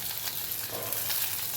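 Onions, green chillies and curry leaves fry in hot oil, a steady bright sizzle close by with faint stirring movement throughout and no voices.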